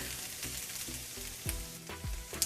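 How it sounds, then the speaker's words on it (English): Okra fries in a pan with a low, steady sizzle, and a spoon stirs through it in a few slow scraping strokes, close and fairly quiet, with no talk. "when you are stirring the okra, do not stir very hardly"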